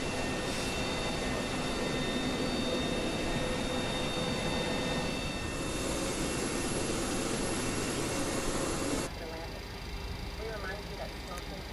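A Boeing 727's number 3 jet engine spools up in a flight simulator with the windows open, a steady loud broadband roar with high whining tones that drops abruptly near the end to a quieter hum.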